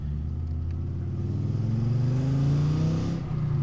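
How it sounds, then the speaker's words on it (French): An Audi five-cylinder engine, likened to a TT RS, revs steadily and builds in pitch, a deep loud rumble heard close by with no talk over it. "Le son du 5 cylindres Audi quoi."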